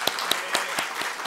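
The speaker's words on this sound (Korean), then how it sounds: "감사의 박수 드리고 싶습니다" Church congregation claps in thanks, a short burst of a few distinct handclaps heard fairly close, moderately loud, with no talking over it.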